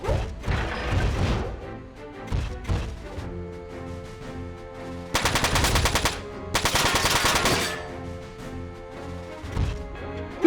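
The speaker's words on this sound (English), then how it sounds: "This guy has machine guns." Machine gun fire in the PS2 video game Front Mission 4, loud rapid bursts of automatic gunfire with metallic impacts, two long sustained volleys in the middle amid shorter blasts and clanks, with no talk.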